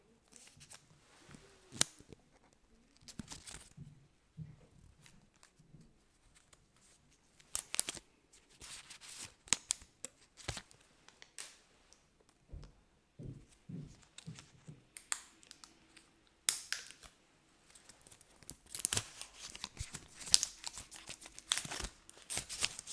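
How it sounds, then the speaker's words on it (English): Protective plastic film peeled off a silver 38mm Apple Watch Series 3 right at the microphone, giving irregular bursts of crackly tearing and crinkling with sharp snaps, separated by quiet pauses. "So I'm gonna peel the plastic up at the mic."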